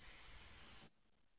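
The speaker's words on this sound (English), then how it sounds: "I like to spray the whole gun down just like this" A can of Rem Oil sprays onto a Ruger SR22 pistol in one steady, close hiss lasting under a second, then cuts off to near silence.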